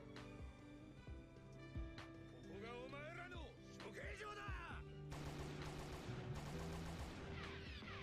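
Bursts of anime gunfire, rapid volleys of shots mixed with crashes, voices and music from the episode, running under ongoing talk.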